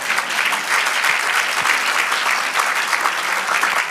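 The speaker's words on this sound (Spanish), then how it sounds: "Aleluya, dale aplauso a nuestro Dios." Congregation clapping together during a church service, a dense, steady wash of many hands sustained evenly throughout, with no talk over it.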